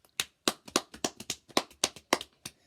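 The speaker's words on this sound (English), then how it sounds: "Let's get a round of applause." A small round of close hand claps, about a dozen sharp slaps in a quick, slightly uneven rhythm from one or two people, clear and alone in a quiet room.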